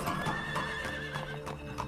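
A horse whinnies while hooves clip-clop in a steady rhythm, moderately close and sustained throughout.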